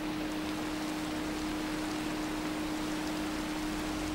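Steady rain hissing down in the video game Minecraft, falling through a hole in a tower, a continuous broadband wash with a constant low tone beneath it and no talking.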